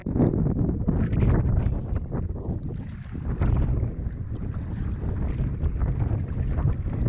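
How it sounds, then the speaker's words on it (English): Strong, gusty wind buffets the microphone in an unbroken roar on open water of the Mississippi River, with water and canoe noise churning underneath. "It's getting a bit gusty out here."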